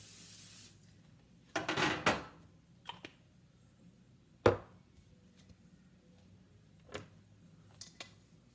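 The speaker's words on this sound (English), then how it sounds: "So we're going to spray our pan" A short hissing burst of cooking spray onto a pan, followed by a few sharp clicks and taps in an otherwise quiet space.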